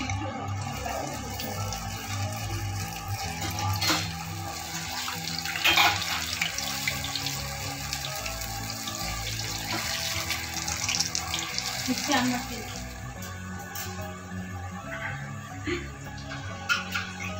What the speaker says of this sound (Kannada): ಎಣ್ಣೆ ಇಟ್ಟಿದ್ದೀನಪ್ಪ, ಕಾಯ್ತಾ ಇದೆ. ವಡೆ ಹಾಕ್ತೀನಿ.